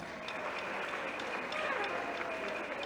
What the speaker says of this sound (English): Can we hear a resounding clap to that?